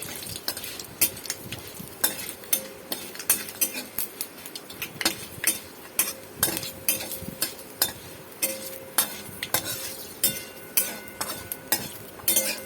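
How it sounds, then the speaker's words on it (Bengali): Grated gourd with ginger is fried and stirred in a pan, a metal spoon scraping and clinking against the pan in steady repeated strokes over a faint sizzle. "দিয়ে ভালো করে ভাজা ভাজা করে নেব, লাল লাল হওয়া অবধি ভাজতে থাকবো।"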